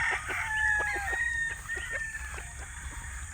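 A young stag rooster crows on a farm in the morning, a loud drawn-out cock-a-doodle-doo close by with other fowl clucking and calling around it.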